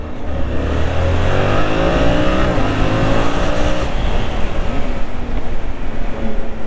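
A Yamaha R7 motorcycle engine revs hard and climbs through the gears while accelerating, loud and close, with a steady rising drone and no talk over it.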